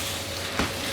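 Meat sizzles and fries in a pan with softened onions, a steady close hiss with a brief stir or splash partway through.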